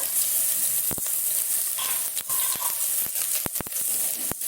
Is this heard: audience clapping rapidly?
no